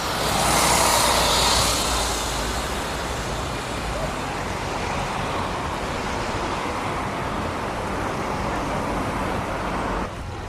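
A St Helens or Southport area bus rolls past on a warm, breezy road, a loud broad engine and tyre roar that swells close at the start and then fades into steady traffic noise.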